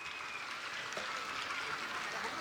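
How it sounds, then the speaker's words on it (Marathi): Audience applause at a primary school annual gathering and prize distribution in Manpada, Thane, honouring child performers including a young dholak player; a steady, dense wash of clapping sustained throughout at moderate level. "या बालकलाकारांसाठी एकदा टाळ्या होऊन जाऊ द्या"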